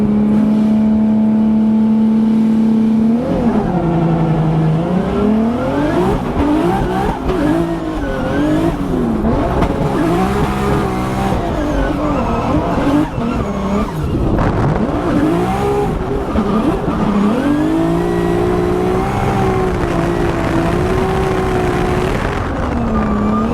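A Formula Drift race car on its first lap at a St. Louis event, engine screaming and revving continuously at high pitch, pitch swinging up and down through the drift, loud and close throughout.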